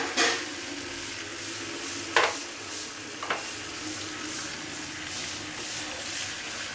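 Onion, green chili, garlic and ginger paste sizzles and fries steadily in a pan for a Bengali fish curry, with a few sharp scrapes of a spoon stirring the mixture.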